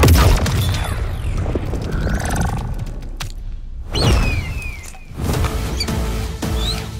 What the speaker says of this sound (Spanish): ¡Activar explosión sónica!